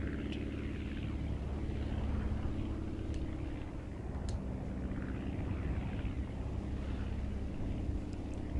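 An airplane engine drones steadily in the game Aviassembly as the throttle is eased back, a low continuous hum with faint airy noise and no clear speech.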